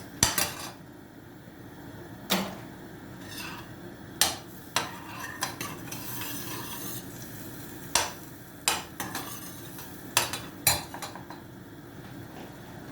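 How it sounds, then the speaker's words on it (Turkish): Manti stirred in a pan with butter and oil, a utensil scraping and clinking against the metal in irregular bursts over a soft, steady sizzle of frying. "Mantımızı bir daha karıştıralım ki yapışmasın"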